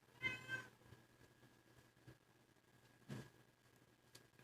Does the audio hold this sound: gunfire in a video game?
no